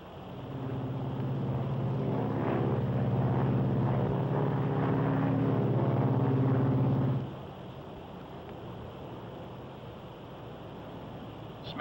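Steady, close propeller drone and cabin rumble inside a Silver Falcon propeller airliner in flight, loud and continuous for about seven seconds before dropping to a quieter, even cabin hum.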